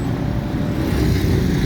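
Road traffic rolling past an open railway crossing near a flyover construction site, a steady loud low rumble of cars and motor vehicles with no break.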